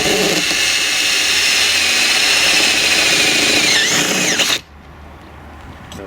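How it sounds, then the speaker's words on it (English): A power drill boring a hole into a plastic fitting in a Volvo XC60, a loud sustained whine with shifting pitch that stops abruptly, leaving quiet background noise. "now I need to drill a hole in this fitting to get the camera connection through"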